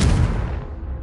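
A Confringo fire spell detonates in Hogwarts Legacy, a loud, close, booming blast with a rumbling, fading tail lasting about a second.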